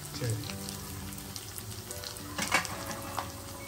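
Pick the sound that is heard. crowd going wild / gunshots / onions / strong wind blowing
onions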